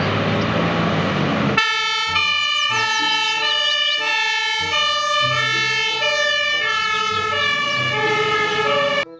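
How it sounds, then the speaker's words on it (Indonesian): A toy fire truck siren plays loud electronic wailing tones in repeated bursts, with bright stacked harmonics and short beeping melodic phrases, all close to the microphone and with no voices. "Yang ini ada mobil truk pemadam kebakaran"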